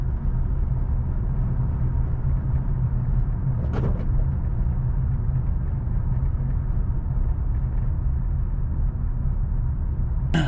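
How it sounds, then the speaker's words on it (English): 2011–2017 Hyundai Elantra engine running while the gas pedal is eased off at low speed, a steady droning rumble of car and road noise with a brief click partway through. "I'm just gonna let go of the gas a little bit and see if it stalls"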